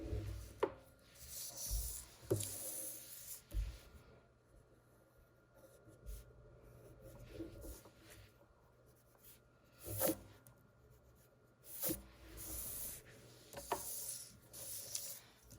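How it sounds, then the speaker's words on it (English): Pencil sketch erased from paper, quiet scrubbing rubs in short bursts with pauses between, close and soft. "And then erase that first sketch."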